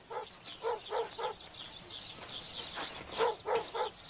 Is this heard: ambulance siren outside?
no